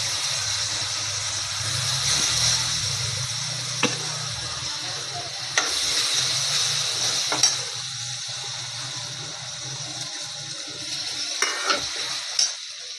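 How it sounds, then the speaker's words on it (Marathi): Moong dal sautés in masala in a pan for a methi dal bhaji, giving a steady frying sizzle with occasional sharp ticks and clinks of a spatula against the pan. "हे बघा मी चांगली भाजी डाळ चांगली परतून घेतली मसाल्यामध्ये"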